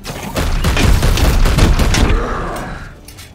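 Gunfire in the Warhammer 40k Chaos Gate Daemonhunters game, a loud burst of rapid overlapping shots and booms that swells, holds for about two seconds, then trails off.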